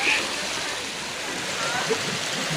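A stream rushes continuously at Abuab Falls in San Mateo, Rizal, a dense, close, broadband wash of flowing water with a brief voice faintly heard through it.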